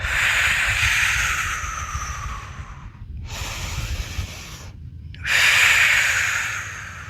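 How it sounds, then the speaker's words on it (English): Slow, deep breaths during a guided meditation: a long, airy, close exhalation, a short pause, another drawn-out breath, a second pause, then a final strong breath, all without speech. "Breathe in and out."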